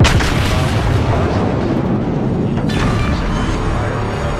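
A heavy, rumbling explosion in World of Warships as an enemy battleship is destroyed, a loud low boom at the start that rolls on as a sustained roar, with a second crackling burst partway through.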